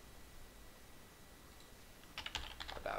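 Typing on a computer keyboard while naming a new WordPress page comes in as a quick burst of faint, close clicks near the end, over a soft steady background hiss.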